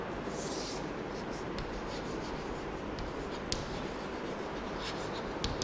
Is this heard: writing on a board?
yes